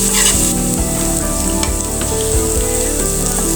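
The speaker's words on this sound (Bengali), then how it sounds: "রসুন পেঁয়াজটা আমি ভালো করে ভেজে নিব।" Chopped onion and garlic frying in hot oil, a loud continuous sizzle with occasional stirring scrapes, close up and without talk.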